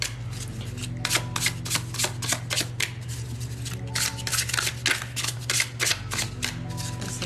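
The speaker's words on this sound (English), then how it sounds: "But if you are an overhand shuffler," A tarot card deck being overhand shuffled, rapid papery riffling slaps in quick irregular bursts, close and fairly loud over a low steady hum.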